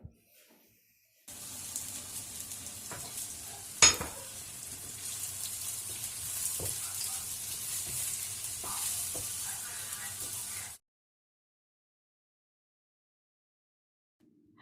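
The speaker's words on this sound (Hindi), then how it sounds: "सो वोक में अब मैं डाल रही हूँ ऑयल, और उसके बाद ये अनियन डालूँगी और इसको हम डाल के करेंगे फ्राई।" Onions frying in oil in a wok for chicken yakhni pulao: a steady, loud sizzle for about nine seconds with one sharp clink partway through, then it cuts off into silence.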